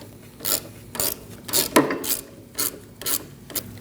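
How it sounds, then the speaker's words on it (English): A ratchet turns off a sway bar link nut on a 2000-2006 Mini Cooper while locking pliers hold the inner stud, giving close, regular clicking strokes at about two per second. "I'm going to get my locking pliers on the back side of this as well to hold it still and remove it the rest of the way"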